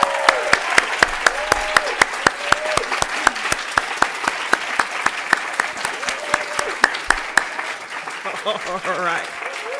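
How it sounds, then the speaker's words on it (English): Audience at a university graduate research competition applauding its finalists, a steady crowd clapping under repeated sharp rhythmic claps close by, while a voice speaks briefly near the end. "Why don't we just celebrate our finalists and give them a round of applause?"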